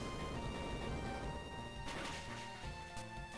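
An Earthquake attack in a Pokémon Super Kaizo IronMON game run booms over steady game music, with heavy crashing bursts near the middle and again near the end.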